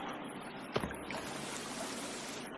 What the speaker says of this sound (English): There's several waterfalls.